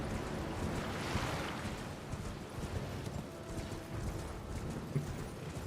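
Horse hooves clip-clop in the video game Elden Ring, a steady, soft stream of hoofbeats under a washing, windy ambience, with no talking.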